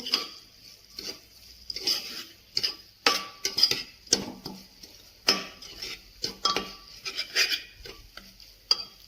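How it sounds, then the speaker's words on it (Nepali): Corn sabji being stirred in a pan over high gas flame, a spoon scraping and clicking against the metal in quick irregular strokes, close and fairly loud, with nobody talking. "मकै हालेर मजाले यसलाई चलाइदिनुहोस्"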